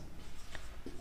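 Pen or pencil scratching across paper while working out a matrix solution, a short faint burst of strokes over a quiet background hum.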